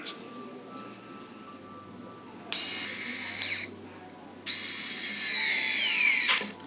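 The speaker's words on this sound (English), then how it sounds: "I'm going to see if I can get a screw in pretty quickly here" A small surgical power driver sets a screw to fix a facial implant during an operation, whining in two bursts of about a second and two seconds over a quiet room hum.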